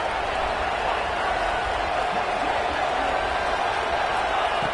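Dense, steady roar of a large crowd at an American football game, a continuous broadband wash of voices holding at the same level from start to finish with no distinct individual shouts standing out.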